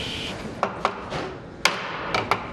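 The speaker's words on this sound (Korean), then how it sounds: "연결 부분을 끼우고 아귀가 맞도록 망치로 두드리고 다시 길이를 재는 일이 반복된다." Hammer tapping the fitted joints of a wooden hanok door, a handful of sharp, irregularly spaced knocks close by over a soft rubbing workshop background.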